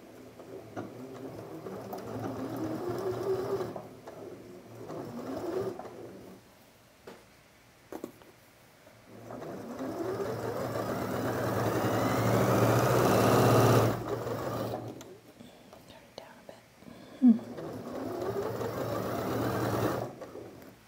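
A sewing machine stitches a quarter-inch fabric seam in several separate runs, each with a whirring motor that speeds up and holds steady. The runs are split by short quiet pauses and sound close and moderately loud.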